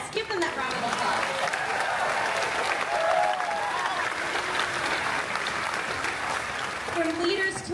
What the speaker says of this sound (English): Yes, give them that round of applause.